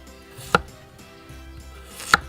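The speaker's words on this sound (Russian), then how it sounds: "Теперь нарезаю вот на такие вот куски" Two sharp knife chops through potatoes strike a cutting board about a second and a half apart, each a crisp thud, in an otherwise quiet kitchen.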